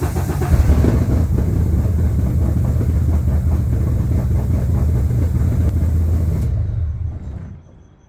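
A race car engine prepared for a 50-lap race running after a new fuel pump and relay were fitted, a loud, deep rumbling idle up close that holds steady, then cuts off and fades to quiet.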